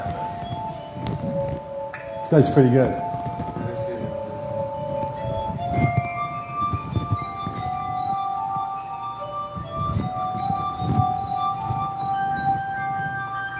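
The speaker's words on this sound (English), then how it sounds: "It's the glass harp." Glass harp played on glasses of different sizes filled with water to different levels, giving ringing, sustained pure tones that overlap and shift pitch, with a brief clinking flurry early on and a person speaking over the music.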